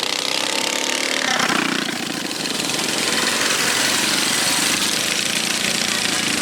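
Mini bike engines at an outlaw and junior race event, a dense continuous rattling engine drone close by, steady and loud throughout with a brief dip, busy crowd-like background under it.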